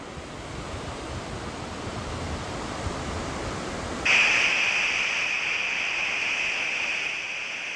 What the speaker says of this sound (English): The waves had picked up a little, but not enough to bother us.